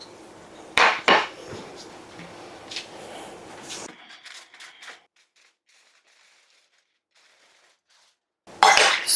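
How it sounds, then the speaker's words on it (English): Roasted carrots are tossed in a pan, giving a few sharp metallic clatters and a rattling scrape of vegetables against the metal, then near silence before a final loud clank. "Let's give our carrots a little toss."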